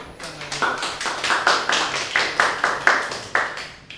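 A small classroom group claps in a loose, uneven rhythm during a Japanese-language microteaching session, roughly a dozen distinct claps close by with no talk over them.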